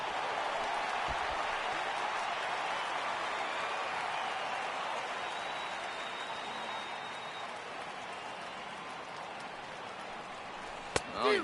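A simulated home crowd in a baseball video game cheers as a steady, rain-like wash of noise lasting the whole stretch, with a sharp click near the end.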